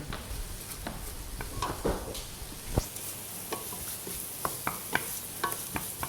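Garlic and chilli stirred into a hot frying pan, a soft continuous sizzle broken by scattered scraping knocks of the spoon against the pan, fairly quiet and close, without any talking.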